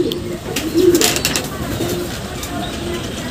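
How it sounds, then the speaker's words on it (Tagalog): Pigeons coo in low murmuring calls at a loft in the early morning, with faint bird chirps and ambient outdoor noise around them. "Ay, may kalapati na tayo."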